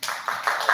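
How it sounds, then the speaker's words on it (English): An audience at a university-readiness event claps, with a short burst of quick, close claps lasting under a second. "Round of applause for yourself."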